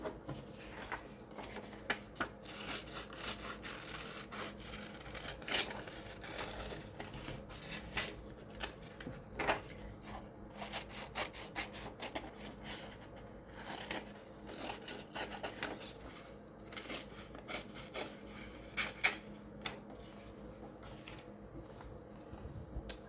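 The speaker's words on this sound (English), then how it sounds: "So let's just kind of rough cut around the apples." Scissors rough-cutting a paper photo around the apples, with many quiet, close snips and rustles of paper repeating at an uneven pace, alone and faint throughout.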